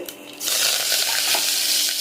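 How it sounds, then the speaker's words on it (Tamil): Mustard seeds sizzle and crackle in hot oil, a bright continuous spluttering close up, starting quietly and quickly swelling. "எண்ணெய் காஞ்சிடுச்சு. கடுகு போட்டுக்கலாம். கடுகு பொரிஞ்சதும் கருவேப்பிலை ஒரு 2 கொத்து,"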